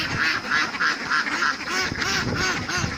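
13-week-old laying ducks quack in quick rhythmic series, several birds close by calling over one another with raspy, nasal bursts.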